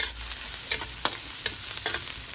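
Garlic and tomato frying quietly in a pan, a soft steady sizzle broken by a few light stirring clicks and scrapes.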